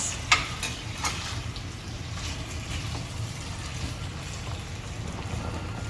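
Macaroni with chicken and vegetables being stirred in a pan, a soft scraping and sizzling with a few clinks of the utensil near the start, then steady low frying noise throughout, no talking.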